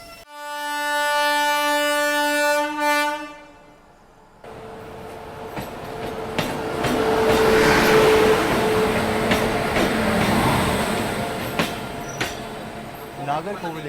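A Katni Bhusaval express train pulls into Bhusaval station, a harmonic horn-like tone sounding first, then a loud, sustained rumble of wheels and rail noise with squealing and clatter that builds and lingers as the train arrives.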